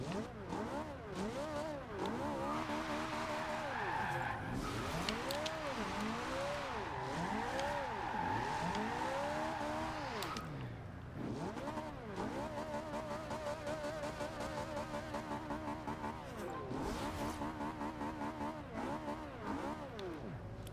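Toyota MR-2 SW20 engine in Forza Horizon 2, loud and sustained with repeated revving swells as it climbs through gears, a brief dip near the middle, then steady high-rpm droning with shifts and faint tire noise.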